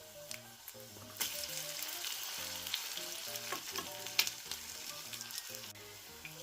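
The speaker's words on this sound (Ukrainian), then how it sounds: "Смажимо їх на середньому вогні." A steady, crackling sizzle of pumpkin potato pancakes frying in a pan over medium heat, with music playing underneath throughout.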